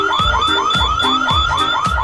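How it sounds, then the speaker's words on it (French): Shop anti-theft alarms going off at a store exit, blaring in a fast, repeating pulsed electronic wail with rapid rising sweeps, loud and close, several cycles in a row without any talking. "les alarmes se mettent à retentir les unes après les autres"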